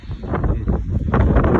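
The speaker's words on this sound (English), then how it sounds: "The wind's kicking up." Strong, cold gusts of wind buffet the microphone in a dark cemetery as light snow begins, a loud, continuous rush with surging peaks and no speech.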